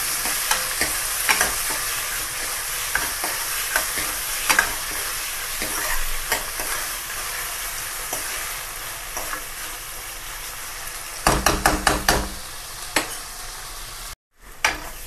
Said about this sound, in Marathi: आता हे असं चांगलं भाजून लाल होईपर्यंत परतून घ्यायचं आहे ह्याला।